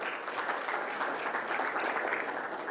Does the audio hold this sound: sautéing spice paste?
no